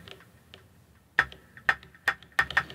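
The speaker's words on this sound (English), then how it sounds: "Then we have again a snare drum, which is called snare metallic, and it sounds like this." A metallic snare preset from an Elektron Digitone synthesizer hits several times, sharp bright clicks in an uneven rhythm, the first few faint and the later ones louder and close, with no voices.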